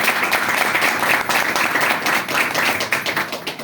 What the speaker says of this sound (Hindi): एक बार अपने लिए तालियां हो जाए